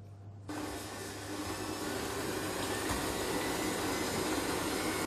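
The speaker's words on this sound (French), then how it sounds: "Je commence à battre le beurre et le sucre ensemble pour avoir un mélange bien crémeux." An electric mixer beats butter and sugar for carrot cupcakes, starting abruptly after a brief quiet moment and then running as a steady, loud, continuous whir throughout.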